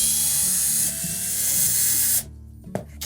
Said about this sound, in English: So simply remove all the retaining screws.